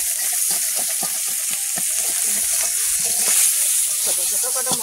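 Prawns frying in a pan with a little water, a bright steady hiss with sputtering pops and soft stirring taps, close and continuous.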